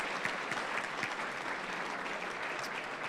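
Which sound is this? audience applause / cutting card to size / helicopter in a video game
audience applause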